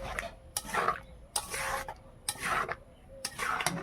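Spoon stirring a thin, watery melted jaggery mixture in a pan for a raw mango sweet-and-spicy dish, four evenly spaced bursts of scraping and sloshing at close range.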